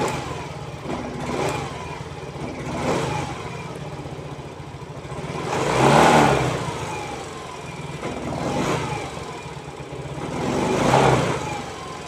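Yamaha Mio 125 scooter engine with a faulty, hesitant throttle response, idling close by and revved about five times in uneven surges that swell and fall back to a rough idle.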